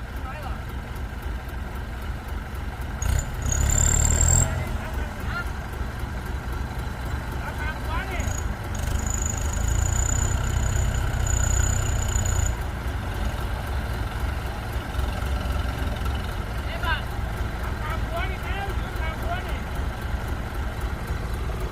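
An M108S tractor engine labors to push a badly stuck 7840 tractor, a steady heavy low drone with a couple of surges, heard up close while people talk over it.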